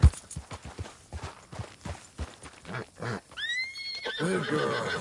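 A horse's hooves clop briskly nearby before the animal lets out a loud, quavering neigh that rises and trails off over the last second and a half.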